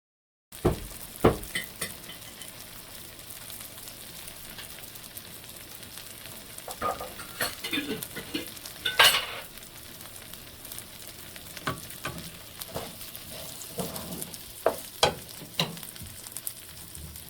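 Rice frying in ghee with cardamom, cloves, bay leaves and peppercorns makes a quiet continuous sizzle, punctuated by irregular clinks and scrapes of a spoon against the pot as it is stirred.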